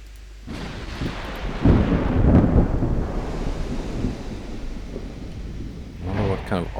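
Thunder rumbles and rain pours in a stormy sea battle in the naval game Ultimate Admiral Dreadnoughts, a deep swelling roll over steady rainfall, with a voice starting to talk near the end.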